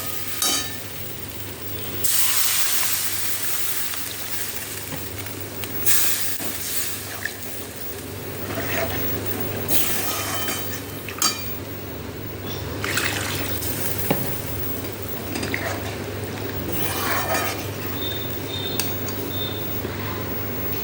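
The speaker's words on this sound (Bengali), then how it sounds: "আলুটা দিয়ে কষিয়ে নিলাম, নিয়ে এবার এর মধ্যে আমি জলটা দিয়ে দেবো।" Water poured into a hot pan of fried potatoes while cooking a fish and potato curry: a loud hissing splash that settles into steady bubbling sizzle and liquid sloshing with occasional stirring clinks, no talk.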